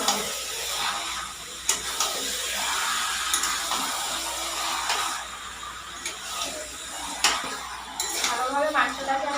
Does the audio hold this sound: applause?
no